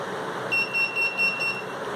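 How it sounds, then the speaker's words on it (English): An electronic buzzer from a Counter-Strike-style laser game simulation sounds a quick series of about five short, shrill beeps, evenly spaced and fairly close, over a steady background hiss. "after completion, buzzer will buzz. It indicates that the person is dead."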